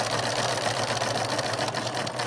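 Sewing machine stitching fabric: a steady mechanical whir with a constant low hum, moderately quiet and continuous, with no talking.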